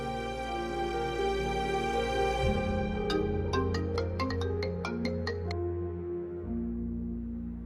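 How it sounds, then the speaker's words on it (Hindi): Ringback tone of an outgoing phone call, a repeating electronic ringing pattern heard clearly and steadily without any talk. "रज़ा को फोन मिलाती हूँ।"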